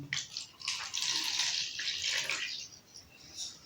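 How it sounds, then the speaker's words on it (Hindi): Lukewarm water is poured from a cup into a small bowl while preparing yeast for roghni naan, a steady splashing rush lasting a few seconds before trailing off into a few drips. "इसमें व्यूअर्स हम 1 कप नीम गर्म पानी का डालेंगे।"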